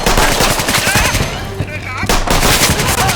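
Loud, rapid bursts of automatic gunfire in a video game rattle almost continuously, with a brief lull in the middle before the firing resumes, under a voice.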